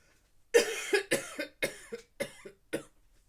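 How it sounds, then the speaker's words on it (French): A series of about seven sharp, close coughs in quick succession, each a short harsh burst with brief pauses between. "C'est tellement chaud que je tousse ça."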